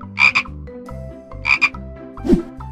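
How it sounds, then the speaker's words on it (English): A frog croaks three times at a steady spacing, each croak loud and close with a rasping, gurgling tone, set over a bouncy cartoon-style music loop. "Frog."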